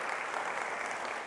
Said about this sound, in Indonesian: Kasih tepuk tangan buat Asher kita.